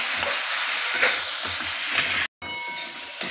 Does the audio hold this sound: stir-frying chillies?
yes